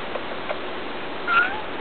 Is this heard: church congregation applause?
no